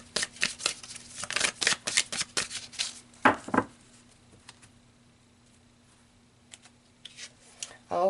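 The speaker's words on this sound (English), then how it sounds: "So let's pull an advice card for you." A deck of tarot cards is shuffled close up, making a fast run of riffling, slapping card sounds. A couple of sharper taps follow, then a quiet pause before a few more soft card sounds.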